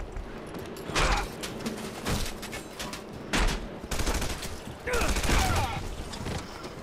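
Bursts of gunfire from the Red Faction Guerrilla video game, several loud volleys spaced over a few seconds with continuous game ambience underneath.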